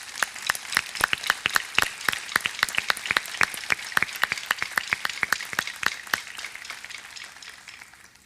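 An outdoor crowd at the Palio opening ceremony applauds in a burst of sharp, rhythmic clapping that holds steady for several seconds and then thins and fades out.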